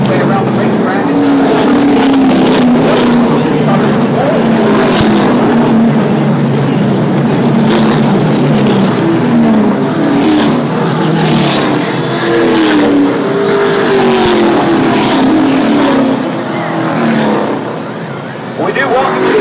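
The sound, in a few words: NASCAR Camping World Truck Series race trucks racing at Texas Motor Speedway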